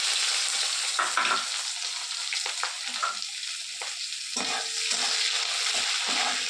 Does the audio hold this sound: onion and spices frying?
yes